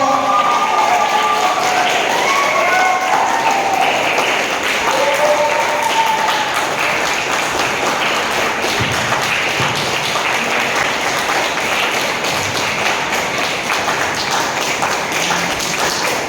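A hall full of people applauding a karate coach at a summer camp closing ceremony, sustained loud clapping for a long stretch, with scattered voices early on.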